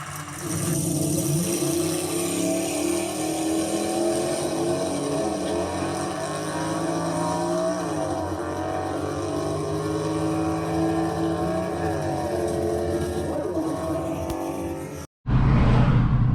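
A car drives along just after leaving the interstate near Carlisle, Pennsylvania, with a steady engine and road drone close up, shifting in pitch, then a sudden cut near the end.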